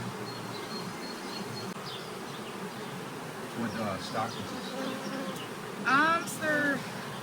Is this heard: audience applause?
no